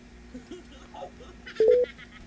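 Phone keypad tones as a call is placed again after a dropped connection, a short burst of a few dial beeps near the end following faint background talk.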